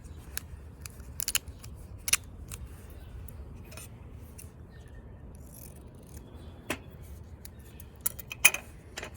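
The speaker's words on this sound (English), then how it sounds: "So I'm gonna take a few pieces of duct tape here." Several pieces of duct tape are torn off a roll, giving sharp, brief ripping snaps scattered irregularly over a quiet, close room background.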